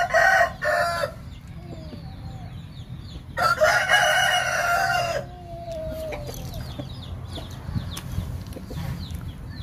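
Roosters at a chicken farm in Vung Tau give two loud, close crows a few seconds apart, with softer clucking and chatter from other birds in between.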